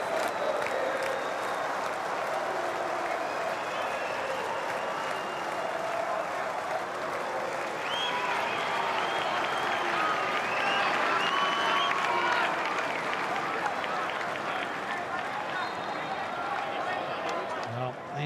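A stadium crowd at an A-League football match between Brisbane Roar and Melbourne Victory applauds a departing player, steady dense clapping and crowd noise filling the whole stretch with a commentator talking over it.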